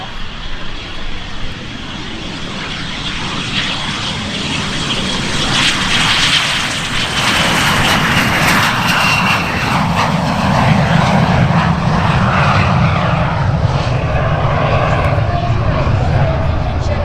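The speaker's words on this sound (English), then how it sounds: "Listen to that sound of the very first jet engine on an aircraft." A de Havilland Vampire DH-115, an early jet warbird, taking off at an airshow at Oshkosh: a loud, steady, broad engine roar that builds and then holds, with some talk faintly underneath.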